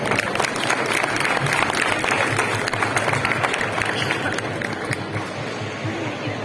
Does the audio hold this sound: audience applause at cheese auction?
yes